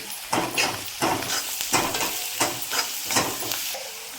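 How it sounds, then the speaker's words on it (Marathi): Onions sautéing with a little salt in a pan for a village-style ridge gourd dish, a steady sizzle broken by regular scraping stir strokes about every three-quarters of a second, close and alone. "त्याच्यामध्ये कांदा परतताना थोडंसं मीठ टाकायचं, म्हणजे कांदा पटकन परतून होतो।"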